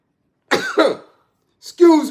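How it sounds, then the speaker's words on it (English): A man clears his throat with a couple of rough, harsh bursts close to the mic, then voiced talk follows after a short pause. "let me clear my throat."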